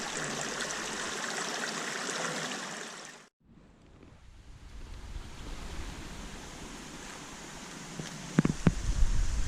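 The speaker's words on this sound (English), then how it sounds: "Water, streams, and waterfalls were all throughout the forest and our trails." Steady rushing water of a forest stream in the Great Smoky Mountains flows continuously, a broad wash of noise, with a brief break partway through and a few small knocks near the end.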